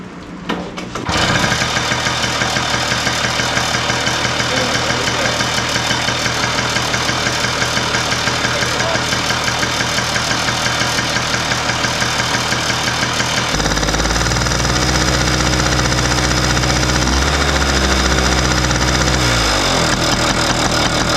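A small engine on a restored vintage kids ATV catches after a brief crank and settles into a loud, rapid, steady idle. Partway through, the idle shifts to a deeper, heavier tone, with no voices.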